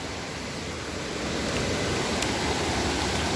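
Creek water rushes loudly and continuously on an off-grid property, a dense, close roar that swells slightly partway through, with no talk.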